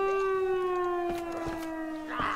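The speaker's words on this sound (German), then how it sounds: "Das ist doch nur eine Sirene." A siren in the survival video game DayZ wails as a single steady tone with rich harmonics, slowly sliding down in pitch, while faint footsteps and game noises sit beneath it.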